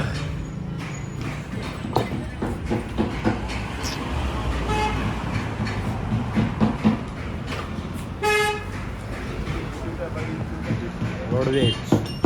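A roadways bus passes on a busy road with several short honks of its horn amid traffic noise and engine rumble, while people talk nearby.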